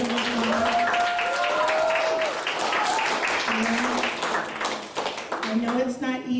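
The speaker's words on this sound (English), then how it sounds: "I want to give them a big round of applause" A congregation at a church youth service applauds its student leaders, a sustained round of clapping under cheering voices and whoops, tapering slightly toward the end.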